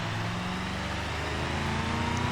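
A pickup truck engine in the driving game BeamNG Drive hums and revs steadily, a continuous low, droning motor sound that builds slightly toward the end.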